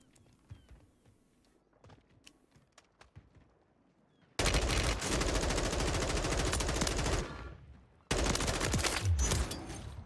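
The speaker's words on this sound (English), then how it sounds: "M4 be shooting, bro" Rapid, loud M4 rifle bursts from the Warzone 3 video game, sustained automatic fire over several seconds with a brief pause before another burst, following quieter scattered game sounds.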